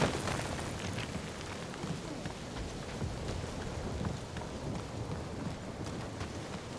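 Steady rain with rolling thunder in the Guardians of the Galaxy video game: a dense, continuous downpour hiss with low rumbling underneath, no voices.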